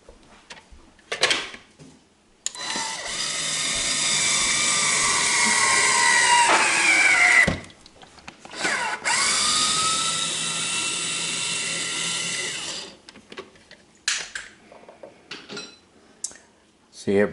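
A Vinci hands-free electric citrus juicer whirs loudly while juicing a grapefruit, with two sustained motor runs of several seconds each, separated by a short pause and followed by clunks and light handling.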